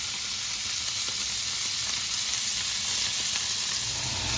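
Filet mignon steaks searing in a hot pan, a continuous crackling sizzle with spitting pops, steady and close with a fan humming in the background.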